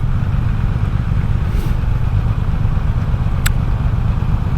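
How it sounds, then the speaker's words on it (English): A 2024 Triumph Rocket 3 motorcycle runs steadily with a deep, loud, close engine rumble and exhaust throb, and a brief high whine cuts in near the end. "just the pop, pop, pop, pop, pop out of the exhaust is kind of intoxicating"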